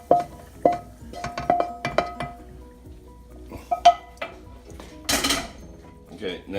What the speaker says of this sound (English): Now you're going to need a colander, and you're going to drain the ground beef off